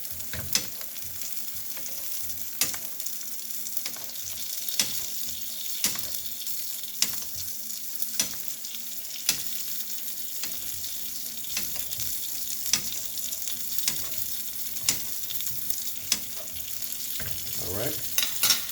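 Salmon fillets sizzle steadily in a hot pan while being basted, with a continuous frying hiss broken by repeated sharp spoon-on-pan clinks and scrapes, close and fairly loud, with no talking.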